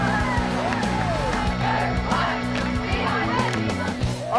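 A loud crowd of fans at a high school football game, shouting, cheering and whooping close by in a dense roar, with young voices and nearby talk mixed in.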